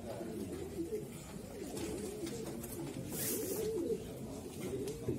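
Soft, low cooing from a young pigeon repeats close by amid a murmur of background noise at a pigeon auction.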